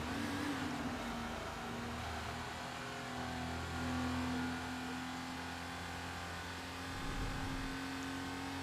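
The engine of a classic Porsche 911 race car on a circuit in the Need For Speed Porsche Unleashed game, a steady droning mid-pitched hum with slight rises in revs, continuous and fairly quiet.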